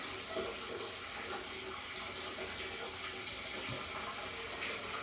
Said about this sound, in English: Natural hot springs mineral water.